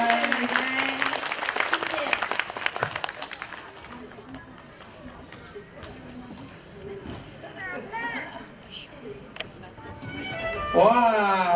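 A burst of clapping from parents at a kindergarten graduation ceremony in Xinzhuang, loud at first and then thinning out, with children's voices and an adult talking over the fading applause.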